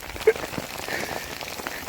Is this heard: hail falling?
yes